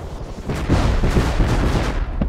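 Rocket launcher fire in the video game Rust, heard as a run of loud, booming blasts that roll together over about two seconds with heavy low-end rumble and no voices.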